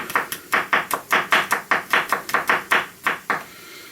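A knife thinly slicing garlic on a board, about fifteen crisp, evenly spaced cuts in quick succession, close and clear with no talk.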